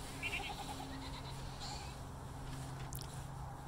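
Goats bleat in short repeated calls over a steady low rumble of background noise, with a few higher squeaks scattered through.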